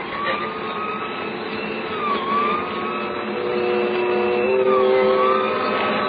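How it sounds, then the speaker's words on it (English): A wailing emergency siren rises and falls over a steady car engine hum in a radio drama, holding loud and continuous throughout with no speech. "We both heard the siren then."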